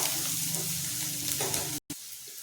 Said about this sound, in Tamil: வெங்காயம் நல்லா செவக்கிற வரை வதங்கட்டும்.